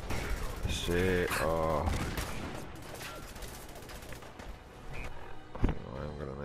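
Gunfire from a Fallout 4 firefight with robot pirates, bursts of shots and impacts layered under game music and effects, while a man reacts briefly with short exclamations.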